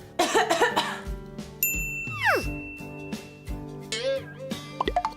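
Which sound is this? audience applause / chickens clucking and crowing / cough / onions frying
cough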